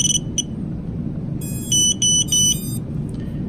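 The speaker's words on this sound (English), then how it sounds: "Let's make sure the buzzer's working." Electronic buzzer on a Kabab Toothpick 3 quadcopter drone giving a few short high beeps, then three longer loud tones in quick succession over a low background hum.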